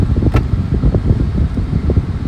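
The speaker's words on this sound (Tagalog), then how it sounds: "Kaya mahangin dito." Steady wind rushing across the microphone, a low rumbling buffet with gusty swells and no voices.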